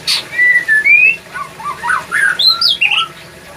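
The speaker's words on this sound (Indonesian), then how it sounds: "murai batu." A white-rumped shama (murai batu) sings a varied run of clear whistled phrases and sharp chirping notes, close and loud, with short gaps between bursts and no voices.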